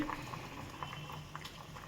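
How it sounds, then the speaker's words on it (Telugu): Carrot and tomato boiling in a pot on the stove for rasam, a soft continuous bubbling patter with small pops, steady and close, no voices. "ఇది రెండు మెత్తగానే ఉడికిపోయినాయి కాబట్టి దీన్ని స్టవ్ ఆఫ్ చేసి పక్కన పెట్టేసుకుంటున్నాను"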